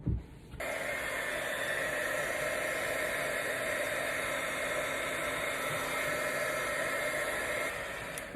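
A heat embossing tool blasts hot air over embossing powder, a steady loud whooshing hiss with a faint whine that starts after a brief click and runs unbroken until it cuts off near the end.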